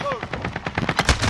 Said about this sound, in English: Shooting it through the walls,